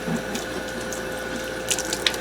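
Cold water running from a kitchen tap into a sink, a steady, fairly loud splashing stream heard alone with a few brighter spatters near the end.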